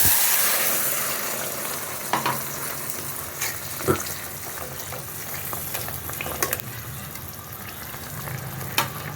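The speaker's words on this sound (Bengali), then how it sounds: "তেলটা গরম হয়ে গেছে, এখন এই বেগুন আর মাছ একসাথে ঢেলে দিই।" Eggplant and fish fry together in hot oil, a dense steady sizzle close up with occasional clinks and stirring scrapes.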